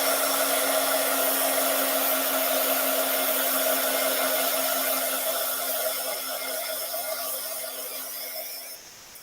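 A hot air tool blows steadily and loudly for several seconds while reheating a cosplay piece to reshape it, a constant close whoosh with a faint hum, then cuts off near the end.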